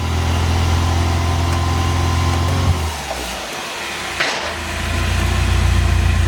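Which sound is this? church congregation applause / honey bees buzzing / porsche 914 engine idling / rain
porsche 914 engine idling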